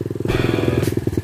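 A dirt bike engine runs close and loud, a fast, even, pulsing putter that swells as the throttle opens partway through.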